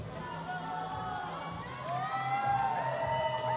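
Team USA supporters in the crowd cheer loudly at a youth speed climbing final in Helsinki, a sustained roar with whoops that swells louder toward the end over steady crowd noise.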